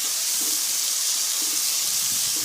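Finely chopped tomatoes sizzle and hiss steadily in a hot pan while cooking down for an aloo matar potato peas curry, a constant close frying sound with no talking.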